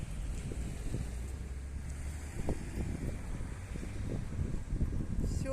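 A cold northern wind blows outdoors and buffets the microphone with loud, gusty rumbles. Underneath runs a steady airy rush that rises and falls in uneven bursts.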